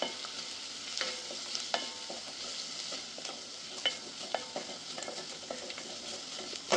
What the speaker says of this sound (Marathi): मसाले चांगले तेलामध्ये परतून झालेले आहे